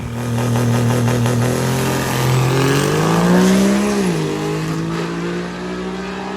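A Cummins-powered Dodge diesel truck at a drag and drive event, its engine roaring loud and close with a deep steady drone that rises in pitch as it revs and accelerates, then settles back.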